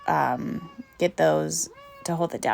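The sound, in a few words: cat meowing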